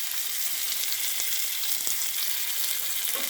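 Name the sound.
cashews and raisins frying in ghee in a tadka pan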